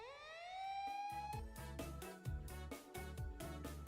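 A siren sound effect in the Fate Stay Night Remastered video game, a rising wail that climbs at the start and then breaks into a quick, repeating electronic pattern, fairly quiet and alone.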